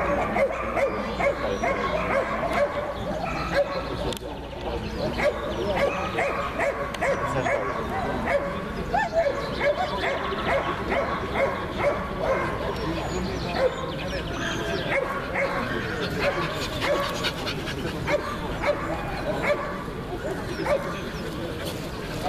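Medium-size male dogs bark and yip continuously throughout at a dog show ring, a dense chorus of several dogs with occasional whimpers, with people talking in the background.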